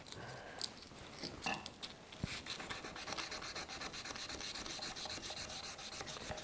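Folded 400 grit sandpaper rubs in the groove of a 1940s Craftsman lathe chisel, a soft continuous scratchy rasping with quick back-and-forth strokes, close and quiet.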